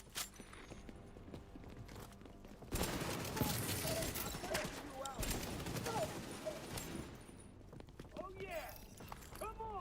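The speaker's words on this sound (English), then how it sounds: "The muted gun sound is very disorienting" Muffled gunfire from The Division 2, a dense rattle of shots under continuous game noise and voices, with bright chirping effects toward the end.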